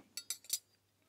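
A fork held under a spoon whisking vinaigrette in a bowl, three or four quick, bright metallic clinks in a short burst, close and quiet, then silence.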